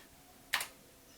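A single brief burst of computer keyboard typing, a quick cluster of clicks heard close and alone in a quiet room.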